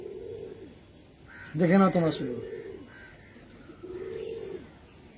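Star Kalanka pigeons coo softly in low, rounded calls, one near the start and another later, while someone talks briefly over them in the middle.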